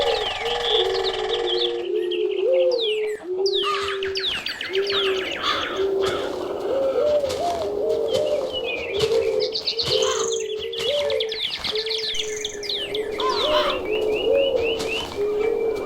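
Birds in the Minecraft Technic modpack game chirp and coo, with repeated soft dove-like coos running under a busy layer of high tweets and whistles, continuous and fairly close.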